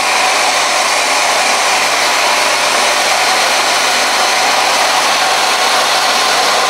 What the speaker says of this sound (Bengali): এখন মেশিনটি চালু করে দিচ্ছি আর দেখতে পাচ্ছেন কীভাবে আমাদের গুঁড়াগুলো প্রস্তুত হয়ে যাচ্ছে